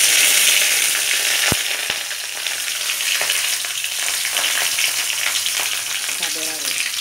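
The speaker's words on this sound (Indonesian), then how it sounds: "Panaskan minyak, kemudian goreng dulu bawang merah, bawang putih," Shallots and garlic fry in hot oil with a steady, loud sizzle throughout, punctuated by a couple of sharp utensil clicks and faint stirring.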